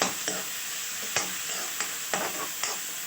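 Finely chopped green chillies and onion fry in a pan for roti noodles, a constant bright sizzle punctuated by four or five sharp scraping stirs at an uneven pace, close and alone.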